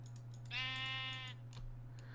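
A single sheep bleat from a Minecraft modpack game, one clear wavering nasal call lasting under a second over quiet background hum and faint clicks.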